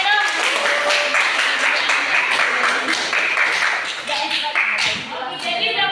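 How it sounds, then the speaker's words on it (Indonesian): Students in a mathematics classroom give a round of applause for a classmate. Steady, dense clapping holds at an even level throughout, with voices mixed in. "Kasih tepuk tangannya dong"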